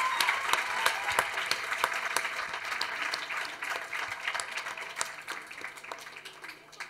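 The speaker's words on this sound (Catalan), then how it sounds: "un aplaudiment" Steady applause from an audience at a student awards ceremony, many hands clapping in an even, continuous wash for several seconds with no talk over it.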